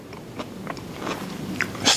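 Crunchy stir-fried vegetables from a chicken cashew stir fry are bitten and chewed close to the mic, giving a few soft irregular crunches over a quiet background.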